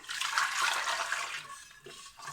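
A powder mixture is stirred into water, making a close, swirling slosh that runs for about a second and a half and then thins into softer, intermittent splashes, with no voices.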